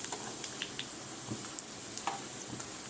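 Okra pakoras frying in hot oil give a steady close crackle and sizzle, with scattered small pops and light scraping stir sounds and no talking.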